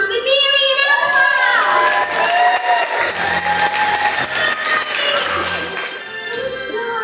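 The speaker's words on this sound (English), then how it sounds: "Let's give applause for Aunt Valerie and Emma!" A theatre audience at a Matilda musical applauds and cheers loudly and steadily, with shouts and whoops rising over dense clapping that slowly fades toward the end.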